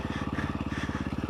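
A KTM 525 EXC enduro motorcycle engine revving off-road, loud and close, with a rapid, even thumping pulse from the single-cylinder that holds steady throughout the short burst.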